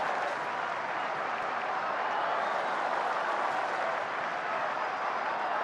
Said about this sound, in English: Crowd getting behind Ohtani, urging him on.